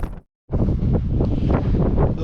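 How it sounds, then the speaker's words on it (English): Strong gusty Mojave Desert wind buffets the microphone in loud rumbling bursts after a brief silent gap. "It's been so windy."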